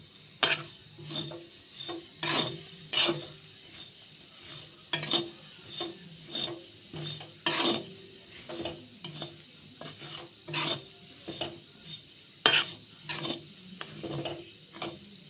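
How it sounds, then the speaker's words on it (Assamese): Coconut flakes and sugar being stirred in a pan, a spoon scraping and tapping against the metal in an irregular rhythm of sharp clinks and soft rasping, close up with no talking. "যেতিয়ালৈকে নাৰিকলৰ চিৰাখিনিৰ লগত চেনিখিনি মিহলি হৈ নাযায় তেতিয়ালৈকে এনেকৈ লৰাই থাকিম"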